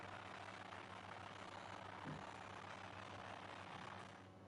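Formula 1 car engines in the F1 23 racing game at the Portugal round, a steady dense droning roar with layered engine tones, continuous and fairly loud throughout with no voices.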